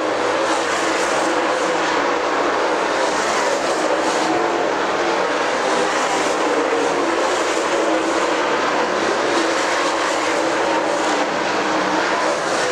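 Super late model race cars roar steadily around the dirt oval at Dixie Speedway during practice, a loud continuous engine drone with no voices over it.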